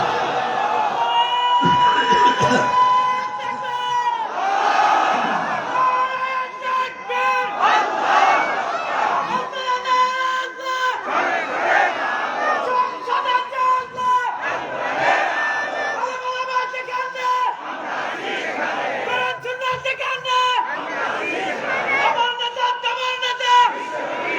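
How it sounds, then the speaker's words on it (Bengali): A large crowd at an Islamic sermon chants takbir in loud, rhythmic collective shouts, repeating in waves of massed voices for over twenty seconds. "দেখি লিল্লাহে তাকবীর"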